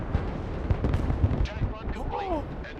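Fighting Falcon jet airstrike in a video game, heard as a dense run of booming blasts and crackling impacts over a continuous rumble, with a rising whine near the end.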